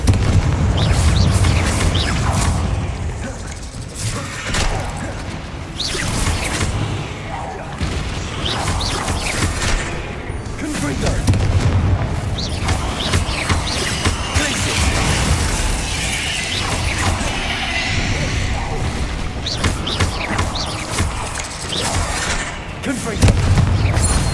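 Confringo blasting curse going off in Hogwarts Legacy, with repeated loud booms and crashing impacts amid game combat noise, spread across a long stretch with voices in the background.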